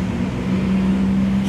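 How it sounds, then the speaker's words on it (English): Traffic on busy Pico Street gives a steady rumble of passing cars and engines with a low droning hum, loud and continuous close by. "sorry for the noise, it's a busy street, it's Pico."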